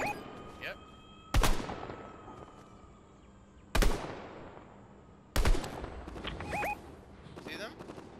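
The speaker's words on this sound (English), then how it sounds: "Shooting at you from the hill over there, look." Distant gunfire from a hill in Fortnite cracks out as three sharp, widely spaced shots with echoing tails, set against faint ambient game sound.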